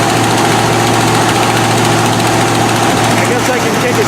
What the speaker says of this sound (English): That's an exhaust leak on the manifold gasket.